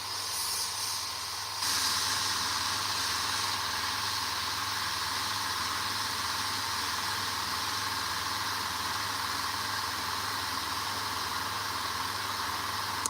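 An airbrush sprays paint onto a Warhammer miniature, a continuous close hiss that steps up slightly in level after a brief start and then holds steady with no talking.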